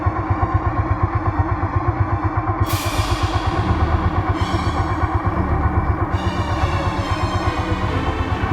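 A motorcycle engine in a story sound effect runs at a steady, pulsing idle with a rapid mechanical throb, close and fairly loud, with hissing bursts layered over it partway through.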